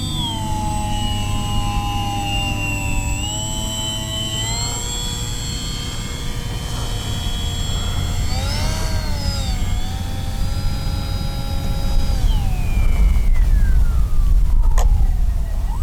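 An H-King Bixler 3 RC model plane passes overhead on a touch-and-go, its electric motor a steady high whine that rises and falls in pitch with a Doppler-like swoop as it flies by, fairly loud and with no talk.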